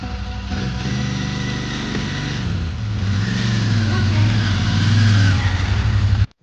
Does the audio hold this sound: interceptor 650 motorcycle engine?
yes